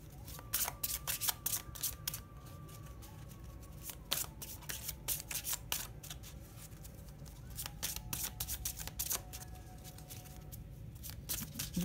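Large cards are shuffled by hand in a quiet room, producing a steady stream of soft riffling and flicking snaps over about twelve seconds, with no talk.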